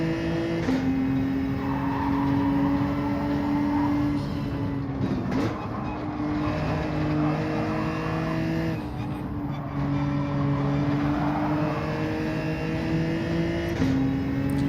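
Race cars in Gran Turismo 7 at Dragon Trail Gardens, engines droning steadily with rising and falling pitch as gears shift and brakes bite, a continuous loud motor whine across the whole stretch.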